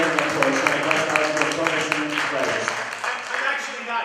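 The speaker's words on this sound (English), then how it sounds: "Please let's give a great round of applause." A conference audience breaks into a sustained round of applause, dense clapping filling the hall steadily for several seconds while voices carry faintly underneath.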